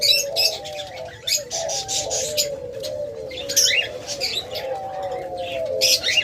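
Pet lovebirds and pigeons kept for sale coo and chirp steadily together, low rolling coos running beneath bright, frequent tweets, close and continuous with an occasional flutter of wings.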